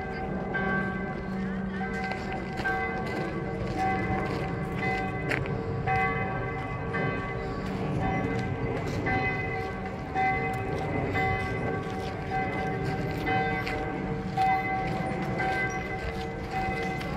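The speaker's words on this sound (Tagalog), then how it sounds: "The church is ringing the bell because today is Sunday." Church bells peal continuously on a Sunday, a steady layered clangor of ringing tones with busy outdoor ambience beneath, no pauses between strikes.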